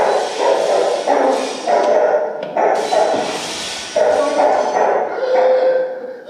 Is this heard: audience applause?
no